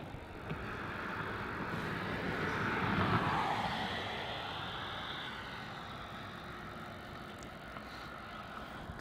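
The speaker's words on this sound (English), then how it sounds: "Lining up there on runway 16, we have Virgin Australia flight VA859 taking off to Sydney." A Virgin Australia jet airliner takes off from runway 16, a distant, moderate engine roar that swells midway and then slowly fades into a steady rumble, with no talk.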